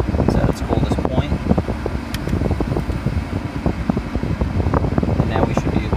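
The air conditioning blower fan of a Chrysler Crossfire runs on high with AC engaged, giving a loud, close, steady rush of air with some buffeting. A person talks over it at times.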